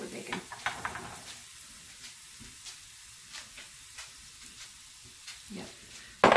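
Bacon fat sizzles and crackles steadily in a frying pan during keto batch cooking, a close, continuous hiss with small pops and occasional stirring clinks, and no voices over it.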